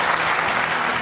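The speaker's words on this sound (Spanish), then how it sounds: "aplauso" Dense, steady applause from a studio audience at a televised interview, a continuous wash of many hands clapping loudly and close, with no voices over it.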